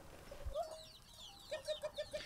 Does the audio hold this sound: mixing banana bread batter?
no